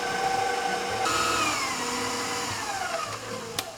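An electric mixer creams chocolate chip cookie dough with a steady, loud motor whine that holds throughout and shifts pitch slightly partway through, with no voices.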